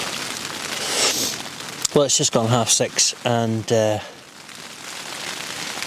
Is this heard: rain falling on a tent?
yes